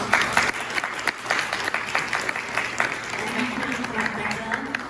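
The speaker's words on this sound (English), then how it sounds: "Can we give them a round of applause?" An audience gives a round of applause, steady clapping from many hands at moderate volume, with a voice speaking over it.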